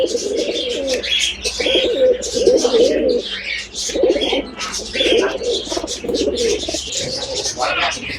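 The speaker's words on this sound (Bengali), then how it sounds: "কবুতরের ডাক শুনলে অনেক ভালো লাগে।" Several pet pigeons coo in repeated, throaty bursts close by, with light chirps overlapping and a steady low hum underneath.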